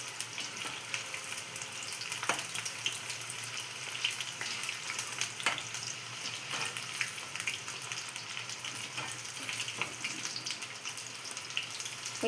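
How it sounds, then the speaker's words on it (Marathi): Marinated chicken 65 deep-fries in oil over medium heat with a steady, dense crackling sizzle, broken by occasional sharper pops. "5 मिनिटं मीडियम गॅसवरती चांगल्या प्रकारे तळून घ्यायचं आहे"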